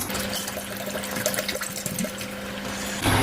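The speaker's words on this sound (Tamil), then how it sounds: "இப்போ மறுபடியும் ரெண்டாவது தண்ணி ரெண்டு லிட்டர் தண்ணி ஊற்றி ஊற்றிக்கணும்" Water splashes and gurgles steadily as two litres pour into a pot for chicken bone soup, a continuous close liquid sound ending in a brief louder splash.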